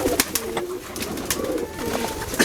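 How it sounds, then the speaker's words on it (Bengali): At a local pigeon farm, a snow-white domestic pigeon gives soft, throaty coos, several short rolling calls spread over a few seconds, heard close up alongside other birds. "এটাও দেখা যাচ্ছে সাদা ধবধবে আরেকটা কবুতর বের হলো"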